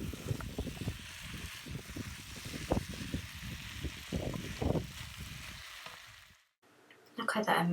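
Cauliflower fries in masala with a soft, steady sizzle broken by scraping stirs close by, dropping away briefly near the end before a short burst returns.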